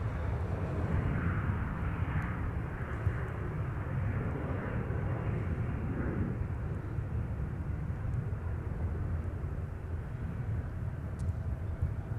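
An Airbus A350-900 airliner taxiing at Minneapolis–Saint Paul airport gives a steady, moderately distant jet rumble with a broad low roar and soft whine that holds evenly across the stretch, with no talk.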